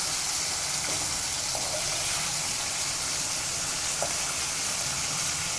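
Capsicum (bell pepper) frying in a pan while broccoli fry is being made, giving a steady, even sizzle with a few faint pops and no talking.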